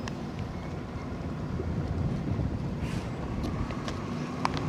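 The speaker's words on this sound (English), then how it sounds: "It's windy, ladies and gentlemen. Oh yeah, very windy." Steady wind roars and buffets the microphone in New York City's Central Park, a constant low rumble with faint brief clicks and rustles.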